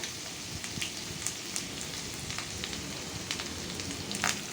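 Chopped ginger sizzles in two tablespoons of hot oil in a pan for a Kerala-style onion pachadi, a steady dense crackle with scattered brighter pops, moderately loud and continuous with no voices.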